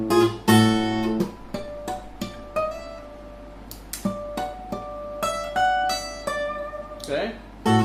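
A fingerstyle guitar picks the solo of The Entertainer, a lively run of plucked notes and ringing higher tones at a moderate pace, close and clear, with a brief bit of noise near the end.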